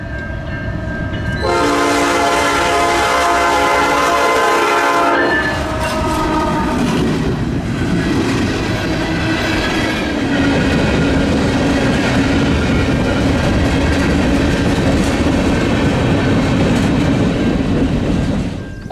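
Train horn blasts loudly for a few seconds, then a long Norfolk Southern manifest freight train rumbles past nearby with continuous rhythmic wheel clatter.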